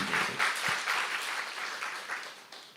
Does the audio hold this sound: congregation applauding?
yes